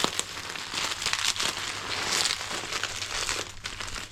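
Plastic packaging around a new fuel pump for a Benelli motorcycle crinkles and crackles close to the microphone in dense bursts for several seconds, with no speech.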